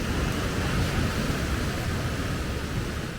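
A mountain river rushes steadily in the morning at the Zangezur Biosphere Complex in Armenia, a dense, even broadband roar close by with no clear birdsong picked out above it.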